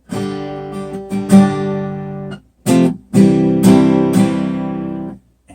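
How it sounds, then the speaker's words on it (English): An acoustic guitar played unplugged, without its pickup, strummed chords ringing out in a few bursts with short pauses between, close and fairly loud. "This is the sound of the guitar by itself."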